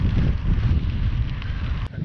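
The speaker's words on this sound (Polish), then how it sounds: "Ale wieje." Wind blows hard across open heathland at the Zuiderheide nature reserve, a loud, close, buffeting rumble over the microphone with a brief dip near the end and no talking.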